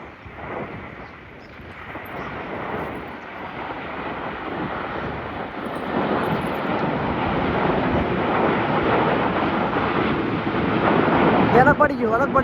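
A fixed-wing airplane roars overhead, a broad rumbling drone that swells steadily louder over several seconds, with people talking beneath it.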